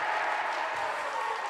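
Crowd at a high school girls basketball game breaking into steady applause and cheering, a dense wash of clapping that holds loud and even throughout the short moment.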